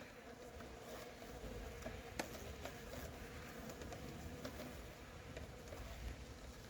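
Bees and a hornet buzz around a beehive at an apiary fitted with an anti-hornet tent, a steady insect drone that runs throughout with a few light ticks and knocks, fairly faint and with no talking.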